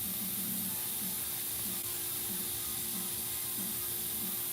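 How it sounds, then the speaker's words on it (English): An airbrush sprays paint for a tattoo design, a steady close hiss with faint low rhythmic pulsing underneath, without talking. "I have to push down so hard on the airbrush."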